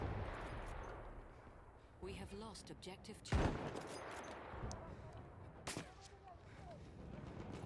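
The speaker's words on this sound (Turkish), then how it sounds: "Arkamdan da birisi vuruyor beni" Gunfire from the World War I shooter Battlefield 1 crackles through game audio, with one heavy close blast standing out among scattered shots and a later sharp crack while someone talks over the action.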